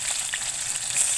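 Onion, garlic and green chili fry in oil in a kadai, a bright continuous sizzle close up with no voices over it.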